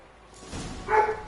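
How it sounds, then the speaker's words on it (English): Dog barking indoors, heard as one or two muffled barks rising briefly over a quiet background, fairly distant and not very loud. "And my dog's going ballistic."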